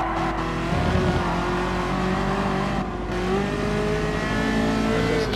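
Ferrari F40 engine in the GT Sport racing game, a loud, sustained engine drone with rising and shifting pitch as the car accelerates, alone with no talk.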